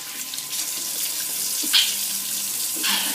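Water running steadily from a kitchen tap while hands are rinsed, a continuous close hiss with small splashes and shifts as the hands move under the stream.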